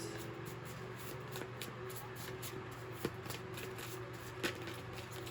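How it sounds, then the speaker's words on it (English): Tarot cards are shuffled and pulled for a Virgo reading, quiet rapid riffling with a few sharper snaps as cards slip free, close under a low steady hum. "Let's pull the 3 tarot cards to start."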